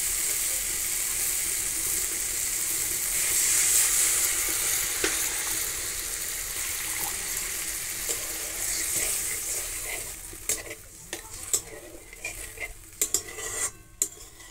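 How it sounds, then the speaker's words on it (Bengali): Water poured onto fried spices in a hot pan sets off a loud, steady sizzle that gradually softens, followed by scattered clinks and scrapes of a spoon stirring against the pan. "মশলাটা আমি ভালো করে ভেজে নিয়েছি, একটু দিয়ে দেবো জল।"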